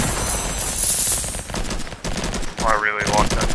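A raygun in the Roblox game Flag Wars fires in a fast burst of repeated zapping shots, loud and close, with a brief wavering electronic tone near the end.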